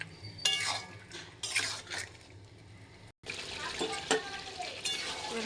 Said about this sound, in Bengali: ভালো করে কষবো যতক্ষণ সব মশলা থেকে তেলটা না ছাড়ছে।